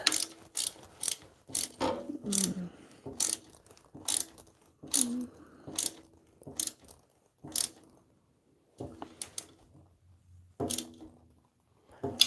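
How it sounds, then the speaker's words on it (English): A ratchet tightens a nut onto bolts while copper knife scales are being fitted, giving quick bursts of sharp clicking with short pauses between them, close and fairly loud, and no talk. "The bolts didn't spin on me, even though I was only tightening the nut."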